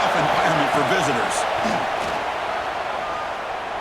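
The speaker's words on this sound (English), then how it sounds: "Listen to the crowd energy here in the early going." A stadium crowd in a college football game against Miami roars in a steady, loud wash that eases slightly over a few seconds, with an announcer talking over it.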